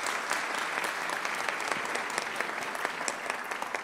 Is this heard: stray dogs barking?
no